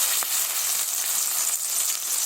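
Shrimp and ground taro stolons hit hot oil in a pan, producing a loud, steady, crackling sizzle that holds evenly throughout with no talking.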